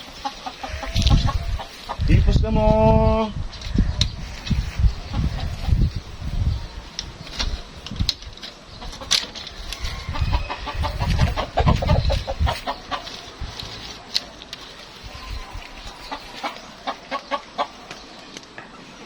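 Chickens cluck and a rooster squawks nearby, scattered bursts of fowl calls mixed with people chatting in the background.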